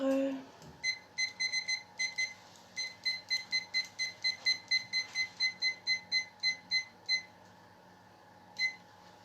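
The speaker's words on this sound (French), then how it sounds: "je vais mettre le minuteur quand même" A kitchen timer set while baking an apple cake gives a long run of short, evenly spaced electronic beeps, bright and close, with a last lone beep after a brief gap.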